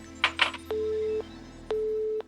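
Two long steady electronic tones from a telephone as a number is dialled in a tense German radio drama scene, each about half a second, preceded by a few short clicks and a faint hum beneath.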